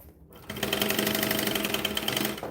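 Sewing machine stitching a bag: after a brief quiet start, a fast, even mechanical rattle of needle strokes runs steadily for about two seconds, close and clear.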